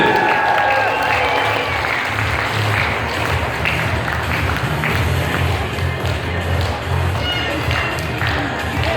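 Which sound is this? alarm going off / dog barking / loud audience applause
loud audience applause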